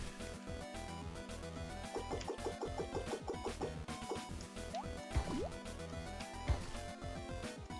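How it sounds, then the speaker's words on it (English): Dripping animation effect from the video game Mago: The Villain's Burger, a run of wet, bubbly drip sounds over busy game music with low thumps and a few sliding tones. "He kind of has a long dripping animation"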